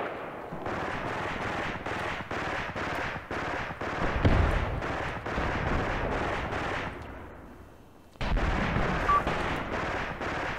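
Mortar shells exploding in the war game Graviteam Tactics, a rapid run of heavy booming blasts in close succession, fading briefly before another loud burst of rumbling impacts.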